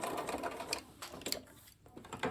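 A sewing machine back stitches a tool roll in short, quick mechanical bursts of rapid needle clatter, close and fairly quiet, with brief pauses between runs.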